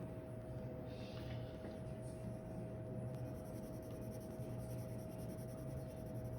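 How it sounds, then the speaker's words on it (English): A 4B pencil shades dark areas on paper, producing a soft, steady scratchy graphite rasp that continues throughout, quiet and close with no talking. "I'm just pressing down a little bit harder with this 4B to put in those really dark shadows"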